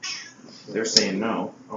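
A pet cat meows briefly in a home, a short mid-range cry heard beneath ongoing conversation between people.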